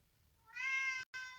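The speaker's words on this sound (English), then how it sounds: "And then the cat came in" A house cat meows once in a long, clear, drawn-out cry with a brief break near the end, close and fairly loud over a quiet room.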